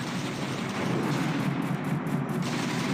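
Continuous heavy robot gunfire in the War Robots game, a dense, loud stream of rapid shots and impacts blending into a sustained roar from start to finish.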